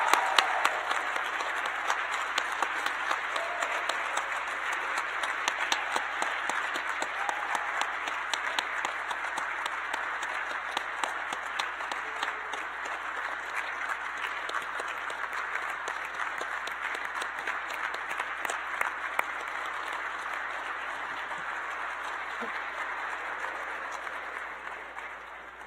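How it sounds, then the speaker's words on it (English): A large audience applauds a graduating class of biomedical engineering students at a university senior celebration, steady dense clapping sustained for about twenty-five seconds before tapering slightly. "let's give one more round of applause for this amazing graduate class of biomedical engineering"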